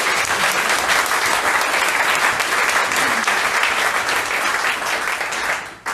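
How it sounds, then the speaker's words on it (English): Sustained audience applause at a youth policy event, many hands clapping in a thick, even wash for several seconds before it tapers off and stops. "So let's give them a round of applause too"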